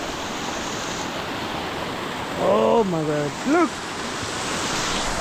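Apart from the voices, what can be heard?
flowing river water in a village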